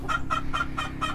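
Chickens kept at an off-grid tiny house property cluck in a steady, repeating rhythm of five quick calls, set against a low, constant background hum.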